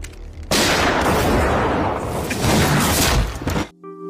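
A rifle shot in an anime erupts as a sudden, loud, dense burst of blast noise that roars for about three seconds before cutting off abruptly into quiet.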